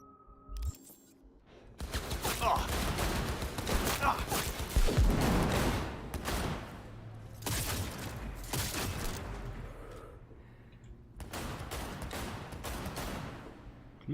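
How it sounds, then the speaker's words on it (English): Gunfire in the video game Cyberpunk, loud bursts of shots and impacts filling the first six seconds, then further volleys after a pause, with a voice speaking at times. "Who's shooting?"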